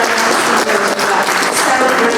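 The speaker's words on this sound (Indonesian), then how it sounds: "Silakan kasih tepuk tangan buat suami." An audience applauds husbands at a couples' seminar on love and marriage, a dense, steady wash of clapping from many hands that fills the short moment with no pauses.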